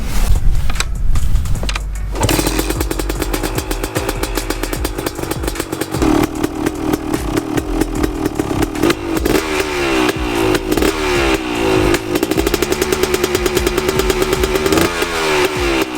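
A KTM 250 SX two-stroke dirt bike engine runs loud and close, idling with a rapid crackle, then revving in repeated rising and falling bursts.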